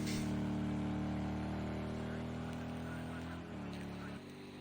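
Racing car lapping a track while warming its tyres, a steady droning engine tone that holds level, dips briefly, then drops lower near the end.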